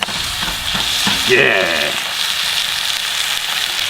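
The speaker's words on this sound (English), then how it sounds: "So our beautiful pan is sizzling away in there." Steak sizzling in hot olive oil in a frying pan, a steady bright crackle running throughout, with a short vocal utterance partway through.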